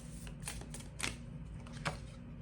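Tarot cards are shuffled and drawn in a quiet room, several soft riffling flicks and slides at an irregular pace, close and faint, with no one talking.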